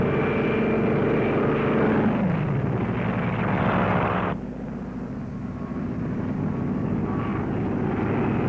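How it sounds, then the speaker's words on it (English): A loud drone aircraft engine roars and whooshes past as it launches from a carrier, its pitch dropping as it passes, then the roar cuts off abruptly and a lower rumble continues. "the drone aircraft are launched and temporarily guided from the carrier"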